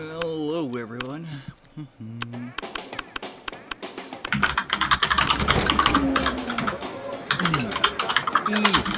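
Fingers tap quickly on a computer keyboard in a rapid, uneven run of clicks, close and fairly loud, with voices and other sounds mixed in.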